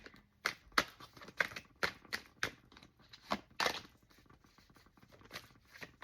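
Tarot cards are riffled and shuffled by hand in a quiet room, sharp papery bursts in an uneven rhythm with soft patter in between, close and fairly faint.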